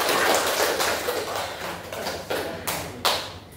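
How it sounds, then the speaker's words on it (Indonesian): Applause for a student in a classroom: a room of hands clapping in a dense, steady patter that thins out over a few seconds, with a few louder, sharper claps near the end. "Berikan aplaus kepada Dita Febrianti"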